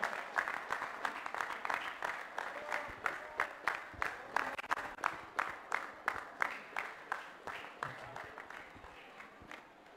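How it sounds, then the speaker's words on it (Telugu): Church audience applauding during a felicitation on stage, a steady roomful of clapping with rhythmic pulses running throughout, moderately loud and fairly close. "మనం చప్పట్లు పడదామండి"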